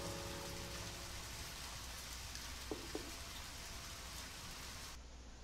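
Steady rain falls in a video game, an even, fairly faint patter of drops on surfaces with a couple of brief louder ticks and no talking.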